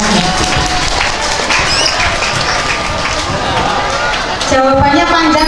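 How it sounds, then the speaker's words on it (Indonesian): An audience at a religious school gathering claps, a steady, loud patter of many hands mixed with crowd noise, and voices speak through it. "Tepuk tangan sekali lagi."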